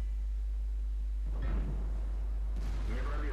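A tank cannon fires in a World of Tanks battle, a deep booming shot over a constant low engine rumble, followed a second later by another blast and crackling debris.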